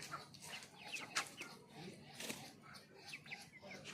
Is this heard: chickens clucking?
yes